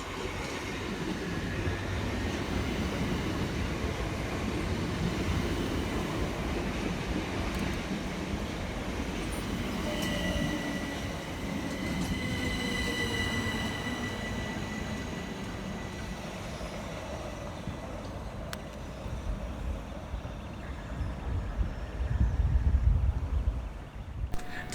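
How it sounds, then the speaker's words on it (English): Two coupled Southern Railway class 377 electric units roll into South Bermondsey station, a broad continuous rumble of wheels and motors with faint squealing tones, fading slightly before a brief heavier thump near the end. "Arriving next into the station is 377308 and 377318 with the 1516 Southern Railway service from Beckenham Junction through to London Bridge"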